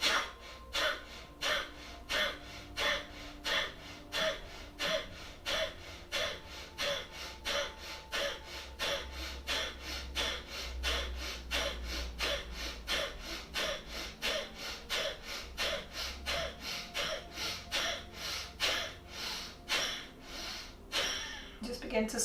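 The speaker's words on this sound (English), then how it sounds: "take a nice long deep breath in. Exhale, strong Ujjayi." Deep Ujjayi yoga breathing, slow rhythmic inhales and exhales with a hissing throat sound, repeating steadily and close up.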